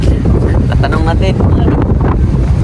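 Strong wind buffeting a microphone aboard a boat at sea, a loud steady roar that runs through the whole stretch, with a voice talking over it.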